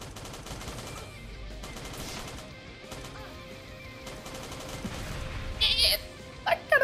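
Bursts of VSS Vintorez rifle fire in a video game, quick suppressed shots against a busy game background, with sharper clustered reports near the end.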